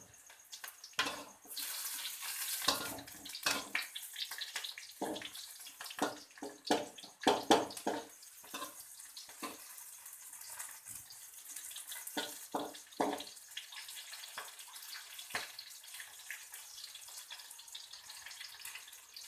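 Green chillies frying in a pan with bamboo shoots: a faint, irregular crackle and spatter with scattered sharp pops, quiet overall and sitting on a hushed background.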